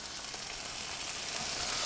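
Cuban beans simmering in a pan with Cholula hot sauce, apple cider vinegar and bean juice give a steady, close sizzle that swells slightly louder toward the end, with no voices.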